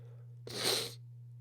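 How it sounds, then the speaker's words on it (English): A stifled, almost-sneeze: a single breathy burst lasting about half a second, rising and fading quickly over a steady low electrical hum. "Almost sneeze."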